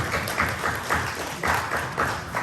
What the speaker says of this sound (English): Please give a round of applause for our Mustangs.